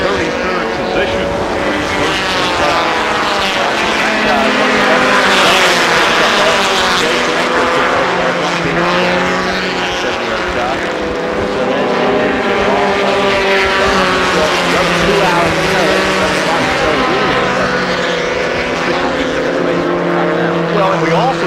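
IMSA endurance race cars roar around the Sears Point circuit in the 1996 championship, engines loud and continuous as they pass, with a commentator talking over the steady racing noise.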